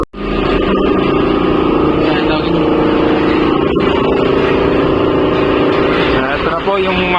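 A Honda CR-V engine with oil leaks idles steadily and fairly loud close up, a continuous running drone lasting throughout, with a brief dip at the start.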